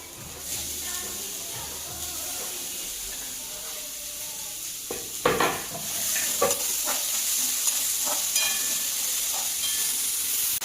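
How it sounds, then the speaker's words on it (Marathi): Onion and ginger-garlic paste sizzle and fry steadily in a hot pan, with spoon stirring scrapes and clinks surfacing through the continuous hiss. "त्याच्यात आपल्याला आता कांदा पण परतून घेऊ आपण।"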